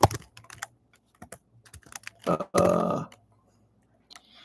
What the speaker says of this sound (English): Here, I'll type it in.